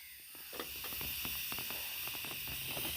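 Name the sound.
chickpeas boiling in a pot, steam hissing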